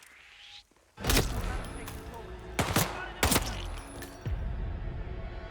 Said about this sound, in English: Let's see what happens if I shoot her.